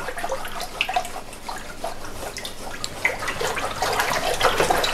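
Water stirred in a container for a pH orchid project, a steady wet sloshing with small splashes and swirls, close and moderate, with no speech.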